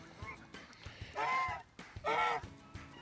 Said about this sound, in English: We got 2 African geese.